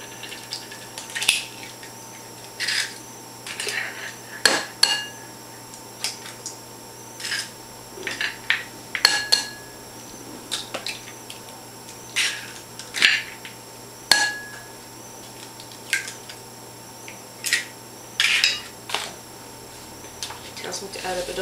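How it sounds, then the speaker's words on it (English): Fork whisking five eggs in a bowl, a steady series of quick clinking, tapping strokes in short bursts, close and fairly crisp, with room hum beneath. "I'm instructed to take 5 eggs and scramble them in a bowl."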